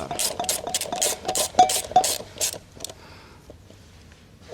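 A bolt tightened with a 10 mm wrench on a moped, giving a run of quick close ratcheting clicks and metallic creaks that taper off into quiet.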